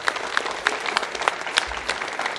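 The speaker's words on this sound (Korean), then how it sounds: "예배를 받으시는 우리 하나님께 영광의 박수 한번 또 뜨겁게 돌립시다." A church congregation at a Korean Sunday worship service claps for God, with a steady, evenly paced rhythmic beat rising above a wash of scattered applause at moderate volume.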